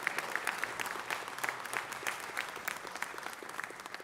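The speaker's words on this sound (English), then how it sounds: "Let's give Ted a round of applause" Applause for Ted Ross, a city Information Technology Agency general manager, fills a hall at an honors event with a steady, dense round of clapping from a crowd at moderate distance, running throughout without speech.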